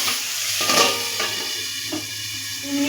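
Cauliflower frying in oil in a covered pan over medium heat, giving a steady, close sizzle with a few soft stirring scrapes.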